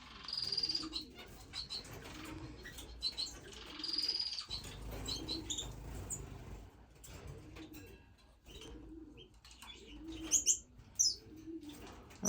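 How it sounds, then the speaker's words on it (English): Birds in an indoor bird room chirp, tweet and coo, with pigeon- or dove-like cooing pulses and scattered bright chirps, plus brief wing flaps, moderately quiet and close. "This is the bird room"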